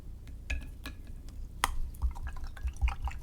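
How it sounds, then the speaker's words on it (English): Paintbrush rinsed in a water jar while watercolor painting a hot air balloon, soft splashing and dripping sounds close by with a few light taps against the container. "wipe my brush off, rinse it off"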